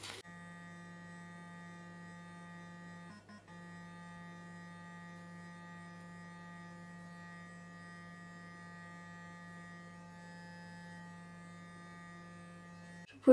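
A Clarisonic sonic foundation brush buzzing with a steady, faint, even hum while blending liquid highlighter onto the cheek, briefly interrupted once near the start and stopping at the end, with no voices.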